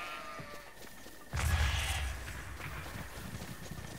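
A sheep bleats in the video game Zelda Breath of the Wild, one fairly faint call that rises suddenly over quiet ambient game sound.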